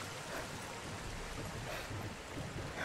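A waterfall in the video game Sniper Elite 4 gives a steady, rushing wash of water that stays even and unbroken throughout, with no voices over it.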